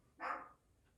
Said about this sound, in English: I apologize for the little dog barking.